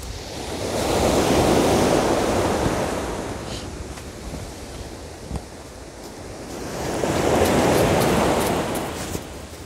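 Sea waves break on a shore in two big swelling surges of roaring foam, each rising and then receding, with wind buffeting the microphone and no speech.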